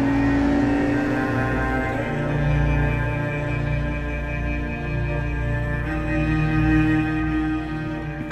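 A deep, steady V12 exhaust note from an Aston Martin DB9 drones continuously, heavy and rumbling with layered harmonics, holding a fairly constant loud level throughout.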